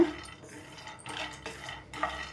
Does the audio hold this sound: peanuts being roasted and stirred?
yes